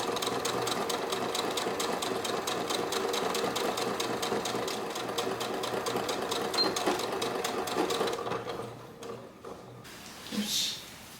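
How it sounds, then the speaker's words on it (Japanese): A sewing machine runs steadily, close by, stitching a vertical seam on a tri-folded edge of a handmade bag. It chatters in a fast, even rhythm for about eight seconds, then stops, followed by a few faint handling noises. "まず三つ折り、ここ縦縫っていきたいと思います。"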